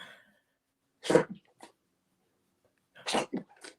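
Two close, loud sneezes by a person during a live football-watching stream, separated by about two seconds of quiet, each an abrupt burst with a short trailing breath.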